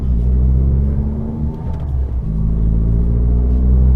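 Steady low engine and road rumble of a Fiat 500 Abarth cruising at freeway speed, a constant droning hum from inside the cabin.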